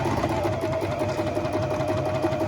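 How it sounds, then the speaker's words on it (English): A Singer M2015 sewing machine stitches through fabric, its motor and needle running in a steady, fast, even hum close to the mic for the whole stretch, with no talk. "So we're going to get some fabric, We're going to start sewing."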